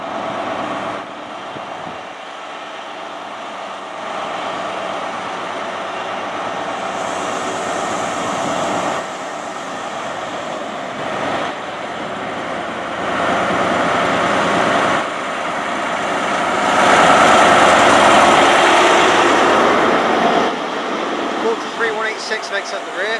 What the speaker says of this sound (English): departing now is the 1011 Great Western Railway service to Paignton from London Paddington